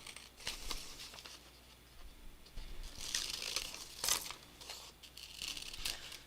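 Scissors snipping through a glossy magazine page to cut out a figure, with soft crinkles and rustles of paper, quiet and close, in irregular bursts with no talk.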